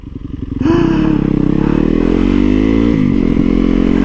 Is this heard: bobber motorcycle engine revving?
yes